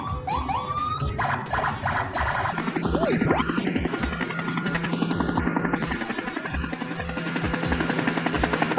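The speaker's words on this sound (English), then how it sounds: "Helicopter, a flying vehicle with spinning blades on top." A helicopter's spinning blades make a steady, rapid chopping thump under a fading police siren wail, then the rotor beat carries on, loud and close.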